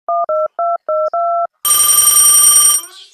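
A phone call to the police begins with five quick keypad dialing beeps, then a loud continuous electronic ringing tone that holds for about a second before stopping.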